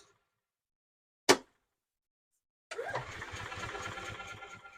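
A 2012 EZGO TXT golf cart's small petrol engine, brought in with a no-start fault, gives one sharp click, then after a pause catches and settles into a near, steady putter of rhythmic low thumps.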